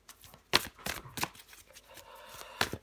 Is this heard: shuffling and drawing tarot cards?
yes